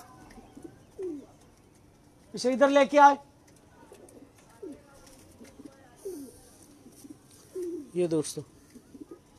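Home breed pigeons of the Mian Nazeer bloodline give soft, short coos between bursts of someone talking nearby, the calls faint and scattered.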